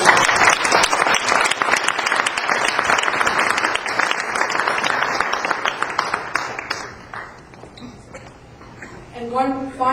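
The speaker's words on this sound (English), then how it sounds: "I would like the crowd to join with me and give you a round of applause." At a business reception, a crowd claps warmly for several seconds. The applause thins out and fades, and a voice begins speaking near the end.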